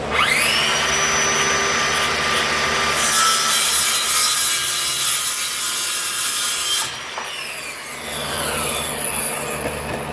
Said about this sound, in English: Grabbing my Hart battery operated skill saw.